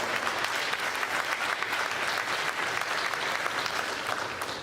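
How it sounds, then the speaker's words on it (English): An audience at a boys' state basketball tournament third-place game claps steadily for the referees, a dense, even round of applause from a gym crowd lasting several seconds. "let's give all the referees a round of applause as well"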